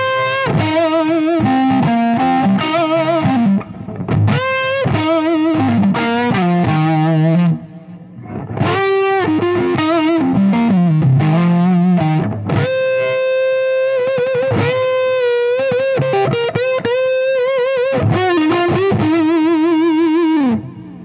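Electric guitar runs through a RealtoneFx Fat Larry Overdrive pedal, playing sustained singing lead lines and chords with warm overdriven tone, loud and up close, with no talking.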